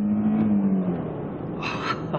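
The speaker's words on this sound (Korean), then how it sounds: "이 차량 같은 경우 3700cc V6 엔진입니다. 출력 면에서도 정말 아주 뛰어난 모습을 보여주고 있는데 제가 엑셀링 한번 밟아볼게요." An Infiniti M37 with a 3.7-litre V6 accelerates on a test drive, its engine tone rising and droning steadily close by for a couple of seconds, with no talking.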